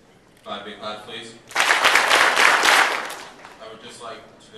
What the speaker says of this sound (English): Five big claps, please.